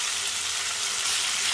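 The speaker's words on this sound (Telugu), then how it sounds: "ఇప్పుడు ఈ చేప ముక్కల్ని మనం 2 వైపులా వేయించుకోవాలండి." Korameenu fish pieces frying in hot oil in a pan, a steady dense sizzle close up with no voices.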